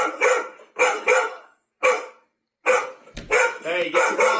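A dog barks in loud, close bursts, several quick barks then a pause, then a rapid run of barks, with a sharp knock or bang between them.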